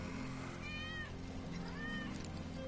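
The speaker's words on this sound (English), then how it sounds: "That's Wedge's cat." A cat in the video game Final Fantasy VII Remake meows twice, two short distinct mews over a steady low game hum, fairly faint.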